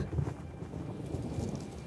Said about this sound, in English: Uh-oh, the storm!